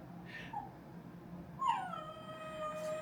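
A pet dog left home alone howls and whimpers through a phone line, rising wavering cries with a thin, slightly distant tone, no talk over them.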